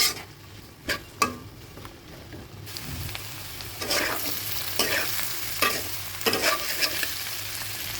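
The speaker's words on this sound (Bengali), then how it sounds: "এখন এগুলো একটু নেড়ে চেড়ে নিই।" Potatoes frying in a pan with salt and turmeric are stirred, a steady close sizzle broken by several sharp scraping clacks of the spatula.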